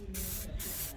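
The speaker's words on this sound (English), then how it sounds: "I'm gonna let Pontiac Man finish up this spraying" Spray painting Cutlass door panels during restoration, a steady hissing spray from a nearby paint gun with slight pulsing in intensity.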